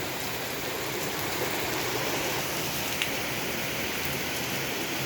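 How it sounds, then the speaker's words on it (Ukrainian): Heavy rain pours down steadily, a dense continuous hiss of water with no pauses and no voices over it. "Походу злива."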